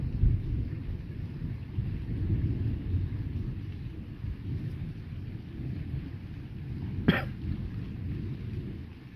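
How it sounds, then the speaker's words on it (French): Steady rain falls during a strong nighttime thunderstorm, with a low rumbling wash of thunder in the background and a brief sharp crack near the end. "il pleut un petit peu plus là"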